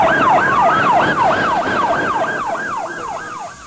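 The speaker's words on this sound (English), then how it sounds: "the lights were flashing and sirens were sounding as paramedics rushed to the scene" Paramedic ambulance siren wailing in a fast, regular up-and-down pattern during a mock car crash drill, loud and close before fading slightly toward the end, with faint road noise beneath.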